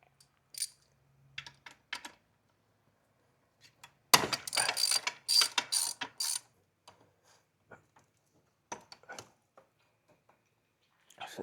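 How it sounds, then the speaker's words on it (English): A bolt on the intercooler hose of a 2025 Subaru WRX being unscrewed, heard as sparse close clicks and ratcheting bursts with a louder stretch of rapid clicking midway, separated by near silence. "You want to unscrew this bolt right here so you can pull this hose off this intercooler."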